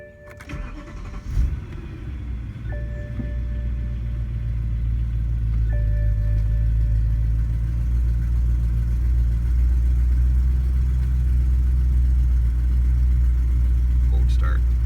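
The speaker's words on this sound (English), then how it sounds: "Let's just start the car up for a minute because it sounds so good." A BMW M3 with about 121,517 miles cold-starts with a starter whir and catches into a loud, steady, deep rumbling idle that holds for the rest of the clip, with some faint chimes at the start.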